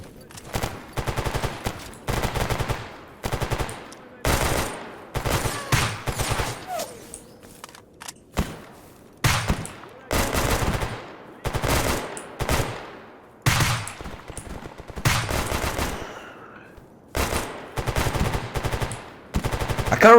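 Dense automatic and single gunfire in the video game Escape From Pripyat, several guns firing at once in a firefight, rapid bursts repeating almost continuously with short gaps, loud and close.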